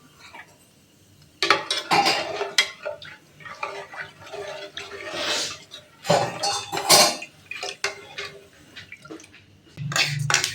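A pot of milk set on a home stove while pasta cooks nearby, with metal clanks and knocks of pots and utensils in uneven bursts, fairly close and loud.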